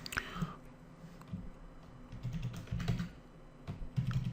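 Fingers tap on a computer keyboard, a steady patter of soft clicks close by with brief pauses between bursts and no voice.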